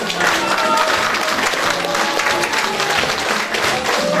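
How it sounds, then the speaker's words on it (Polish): Audience applause at a seniors' day celebration in Jastrzębce, loud and steady throughout with some crowd voices mixed in. "brawa"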